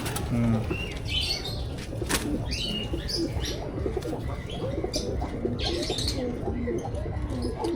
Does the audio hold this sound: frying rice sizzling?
no